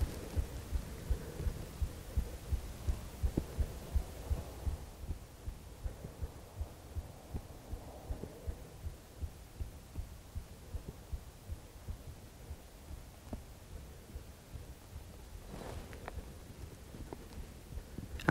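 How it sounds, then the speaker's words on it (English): A rapid heartbeat pounds in steady, quick low thumps, close and muffled, recorded during a moose bowhunt in Alberta; the beats continue evenly throughout with a faint background hum. "as you can hear, my heart was racing."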